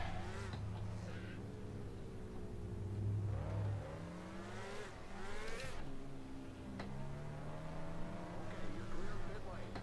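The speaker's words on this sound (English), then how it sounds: "These cars don't sound like flies, they sound like bees." Engines from the NR2003 racing video game rise and fall in pitch as the cars rev and accelerate, a buzzing whine heard in a Daytona Goody's Dash race, with a person talking over it.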